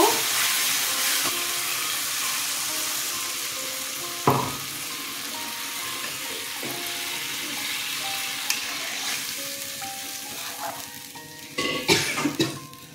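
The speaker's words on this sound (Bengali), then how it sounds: "মশলা কষানো হয়ে গেছে, জল দিয়ে দেব" Sizzling spice paste frying in a pan for a Bengali sour-spicy chara pona fish curry with mustard and raw mango, with a sharp hissing burst as water is poured in and steady frying crackle throughout.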